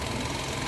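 A Honda Unicorn 150 motorcycle engine after tuning, a steady, loud, close mechanical drone held at constant revs through a very short stretch.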